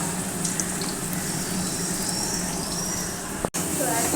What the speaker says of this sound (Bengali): আমার মাংস রান্না করছি মশলা প্রায় কষানো হয়ে গেছে